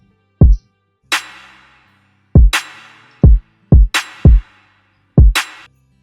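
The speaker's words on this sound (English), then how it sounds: "using this plugin I created a very hard hitting kicks" Punchy, distorted kick drums hit in a sparse pattern, each thump loud and sharp with a short decaying tail, with no other sounds in between.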